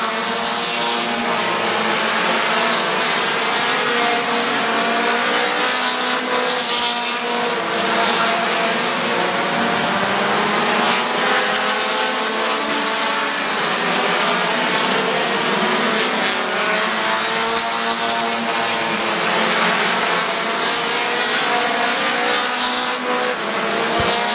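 Race cars lapping Midvale Speedway through lap traffic, a loud continuous roar of several engines with rising and falling revs and passing surges, no voices over it.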